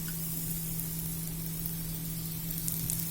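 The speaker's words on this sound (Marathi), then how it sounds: "आता मी गॅस मीडियम केलाय आणि हा पराठा मी टाकून घेते आणि त्याच्यावरती आपण थोडंसं तेल घालायचं." A paratha fries in oil on a pan over medium heat, giving a steady, even sizzling hiss up close with a faint low hum beneath and no pauses.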